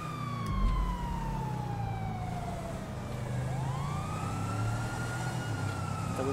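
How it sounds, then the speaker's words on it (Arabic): A police car siren in GTA V wails steadily, sweeping up and down over a low rumbling engine, loud and close throughout. "انا فاتح السرين"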